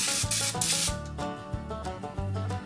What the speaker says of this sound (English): I'm just gonna kind of go in with a little bit of Baker's Joy and kind of grease the liners themselves